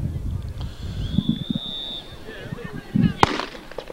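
A starting gun fires for a boys' 1600 meter race at an outdoor track meet, giving one sharp, loud crack near the end after murmuring voices and open-air background noise.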